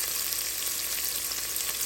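Sliced onions frying with dry spices in a pan for veg pulao, a dense, bright, continuous sizzle that stays close and constant throughout, with no voices.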